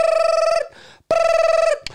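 A phone rings loudly in a movie theater, two bursts of an electronic ringtone separated by a short pause, close and clear with a harmonic-rich tone and no talking.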